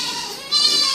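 A Barbari goat on a goat farm in cold weather lets out a loud, nasal bleat up close that swells sharply halfway through, with no voices.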